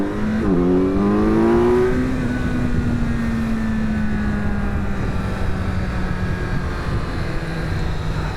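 Kawasaki Z900 SE motorcycle on the track at Homestead, a close engine whine that climbs sharply through a quick gear change and then settles into a long, steady drone.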